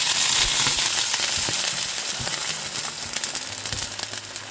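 Water hits a hot pan and bursts into a loud, dense sizzle that fills the moment, slowly settling into a steady crackling fry with no voices.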